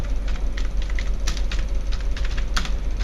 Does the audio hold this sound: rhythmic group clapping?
no